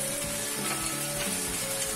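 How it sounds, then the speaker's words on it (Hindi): Capsicum, green chilli and ginger frying together in a pan for soya chilli, giving a steady, close sizzle with a few soft stirring scrapes throughout and no talk. "इस तरह सभी को हम थोड़ा सा भून लेते हैं।"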